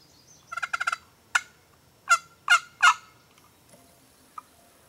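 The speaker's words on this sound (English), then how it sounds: "you'll be making some of the best clucks on a scratch box that you ever made in your life" Quick bursts of sharp, scratchy turkey clucks from a scratch box friction call, a rapid run followed by a few spaced single clucks and a faint last one.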